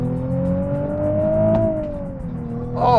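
A Nissan 370Z Nismo engine revs steadily upward to 7,000 RPM, a single smooth climbing tone over about two seconds before easing off, fairly close with a faint noise in the background.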